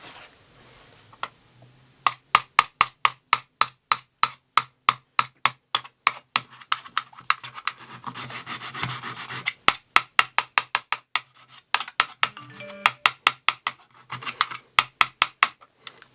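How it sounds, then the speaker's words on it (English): A coin rubs briskly across iPhone 5S metal casings in a scratch test, a long series of sharp, rapid scraping strokes in quick rhythmic bursts, close and clear with short pauses between runs. "So we're just going to be rubbing each one with a coin as if it was in your pocket"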